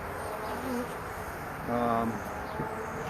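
Honeybees hum around a swarm being collected on a cool, overcast day, a faint low buzz near the microphone with brief louder passes, under quiet background noise and a voice.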